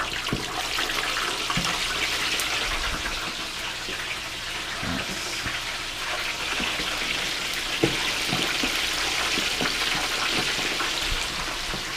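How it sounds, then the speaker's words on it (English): Brined chicken wings bubble and sizzle steadily in hot deep-fryer oil, a dense, continuous hiss with scattered small pops and crackles throughout, close and alone with no talking. "Drop them slow. You let the oil cook a little bit before you drop them"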